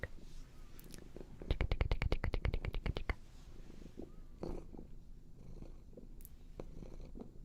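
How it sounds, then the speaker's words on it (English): A cat purrs close by in a quiet room, a soft rhythmic rumble with a louder pulsing stretch near the start, followed by faint rustling and handling noises. "do y'all hear the pitch of that purr?"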